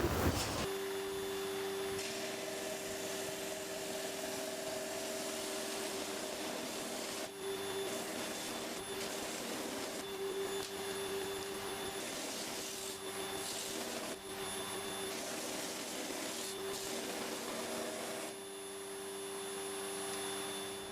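Steady, loud abrasive sanding of wooden oud bowl ribs over a dull motor drone runs without a break for about twenty seconds, with a few brief dips in the middle.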